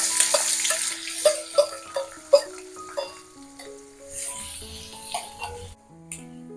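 Chopped onion added to hot oil in a kadai, tempered with fennel seeds, gives a soft sizzling hiss with intermittent stirring clinks and scrapes, close and moderately loud, no talk.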